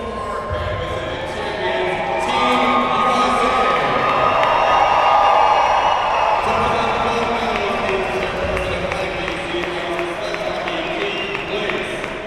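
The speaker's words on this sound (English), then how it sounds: "a nice hand from the crowd here at the first Niagara rink to Canada" Crowd noise fills an ice rink during an ice sledge hockey gold medal game, a broad steady swell of cheering and clapping under an announcer's voice throughout.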